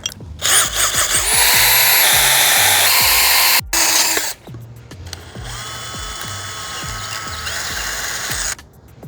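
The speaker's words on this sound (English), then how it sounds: "I did have to cut an initial hole with a smaller drill bit" A power drill whirs loudly in sustained bursts, briefly cutting out and then restarting at a slightly lower pitch as it bores a hole through a Motorola RAZR phone.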